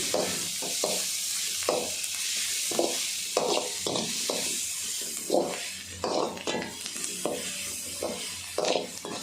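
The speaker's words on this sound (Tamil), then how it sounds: "ஸோ அது கூட இப்போ எல்லாமே வந்து நம்ம சாட்டே பண்ணணும்." Crushed garlic and salt being sautéed in a pan, with steady sizzling under repeated scraping strokes of a spoon or spatula at an irregular rhythm, close by.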